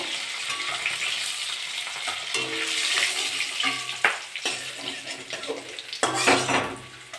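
Silver carp pieces frying in oil in a pan, a steady close sizzle broken by metal utensil clinks and scrapes against the pan, with bursts of louder crackle.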